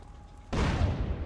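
A sudden loud explosion in the video game GTA San Andreas bursts in after quiet and rumbles off into a lingering roar.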